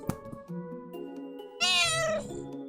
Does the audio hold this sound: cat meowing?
yes